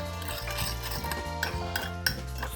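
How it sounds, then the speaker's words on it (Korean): A spoon scrapes and clinks around a bowl while mixing corn, mayonnaise, sugar and parsley, with several sharper clinks among the stirring, and a steady low musical hum underneath. "잘 섞어주세요."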